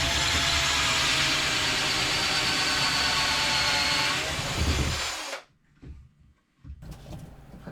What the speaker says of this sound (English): I proceed to drill the first hole.